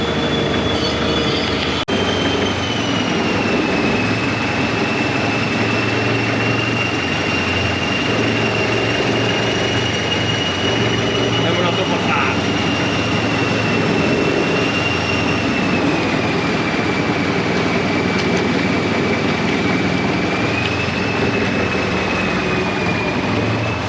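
Motorboat speeding along a canal at the Damnoen Saduak floating market near Bangkok, overtaking other boats; a loud, steady engine drone with a high whine runs continuously and close throughout.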